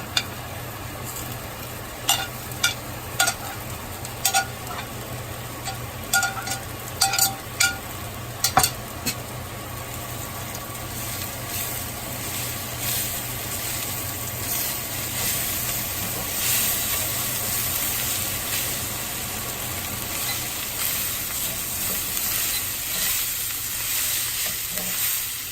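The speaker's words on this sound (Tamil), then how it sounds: "இந்த ஸ்டேஜில் நம்ம குக்கரில் வேக வச்ச மட்டனை மிக்ஸ் பண்ணலாம்." Pressure-cooked mutton is stirred into browned onions in a hot pan. Sharp spoon scrapes and clinks sound over the first few seconds, then a steady, close sizzle continues alone with no talking.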